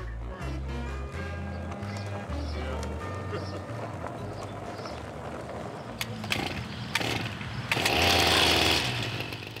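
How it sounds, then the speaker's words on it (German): Rattling lawnmower engines drone steadily beneath a voice and background music in Detroit, the motor noise swelling louder near the end. "seine knatternden Rasenmäher"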